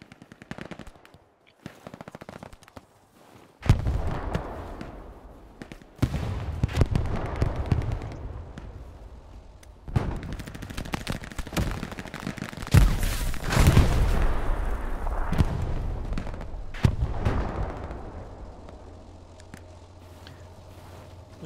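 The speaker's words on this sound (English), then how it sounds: "Laying down strafing run near my supplies" A strafing run in the World War II shooter Hell Let Loose, with bursts of rapid machine-gun fire and heavy booming explosions rolling in waves, loud and close, then tapering to a low rumble.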